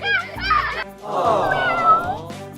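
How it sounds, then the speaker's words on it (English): A cartoon kitten gives a few high, bending meows, some short and one longer drawn-out cry, loud and close, with a child-like voice in between. "He brought home a pet kitten, which wasn't so great at first."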